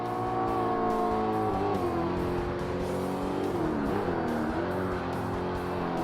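Car driving in an original Xbox video game, a loud continuous engine whine with rising and falling revs and tire squeal, no talking.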